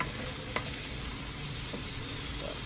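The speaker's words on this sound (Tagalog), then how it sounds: "Ayan, prituin muna natin." Food frying in a home pan gives off a steady, even sizzle, close and moderately quiet, broken by a couple of brief soft pops, with no voices.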